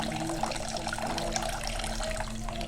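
Water runs steadily from a tap into a cooking pot for odong noodles with sardines, a constant close splashing stream with a faint kitchen hum beneath.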